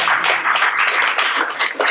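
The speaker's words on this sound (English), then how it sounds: "Round of applause, everyone." Audience at a London tech meetup applauds, a dense steady patter of clapping hands filling the room for a couple of seconds, loud and close with no talk over it.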